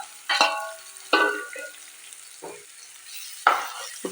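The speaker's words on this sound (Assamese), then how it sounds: "এয়া পিঁয়াজখিনি ভালদৰে ভাজি ল'লোঁ" Finely chopped onion fries in a pan with cumin and asafoetida, the quiet sizzle broken by four or five sharp scraping stirs of a spatula against the pan, close and alone.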